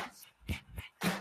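A sleeping dog gives off a few short, soft whimpers in quick succession, close by, with quiet pauses between them and no one talking.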